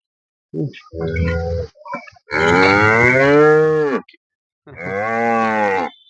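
HF dairy cows on a farm moo loudly and close by, several long drawn-out calls with short grunting lows between them, no talk.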